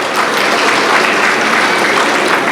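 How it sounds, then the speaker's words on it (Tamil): Large audience applauding at a Tamil speech event, a dense, steady wash of clapping held at full strength for the whole stretch with no voices on top. "உண்மையிலே புத்தகம் வாங்கினவங்களுக்கு ஒரு பெரிய கைத்தட்டல் கொடுங்க"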